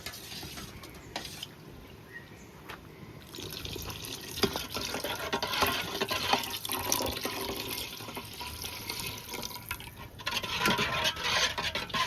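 Rice flour mixed with water pours in a steady liquid stream, a continuous splashing trickle that grows fuller toward the end, heard alone without talk.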